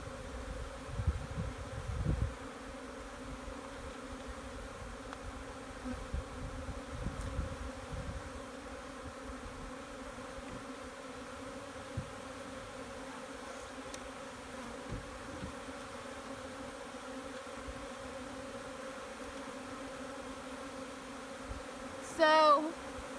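Honey bees swarm over frames lifted from a backyard hive, giving a steady low buzz that holds at an even level throughout, with a few louder bumps near the start and end.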